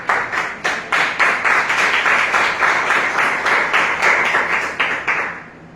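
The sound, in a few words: applause for God in church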